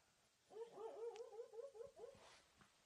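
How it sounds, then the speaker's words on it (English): A sleeping dog whimpers faintly in its dream, a run of soft, high, rising and falling whines and yips lasting about two seconds in a quiet indoor room. "Listen, my dog's dreaming."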